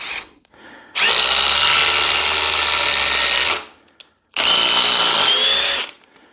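Dewalt 860 impact driver sinking structural fasteners, two loud, close bursts of rapid hammering, the first about two and a half seconds long and the second nearly two, with a brief pause between.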